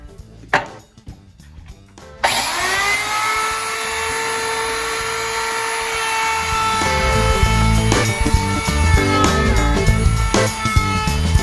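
A high-pitched power tool whines steadily after a brief start, its tone sustained and loud, with grinding and rattling as it cuts a decorative edge into a wooden napkin holder piece.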